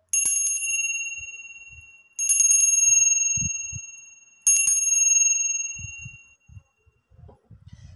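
A bell rings three times to open a tarot reading, each strike a bright, sustained metallic tone that slowly decays before the next. Soft low thumps and handling noises follow after the last ring.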